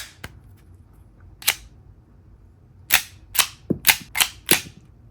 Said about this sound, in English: when you fire it, not only will it produce the same flash and smoke you would find typically from like a regular like cap gun